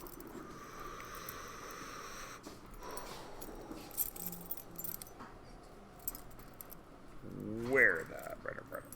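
Keys being handed back in a classroom give off faint metallic jingles under ongoing room noise and distant talk, ending in a brief louder rattle near the close.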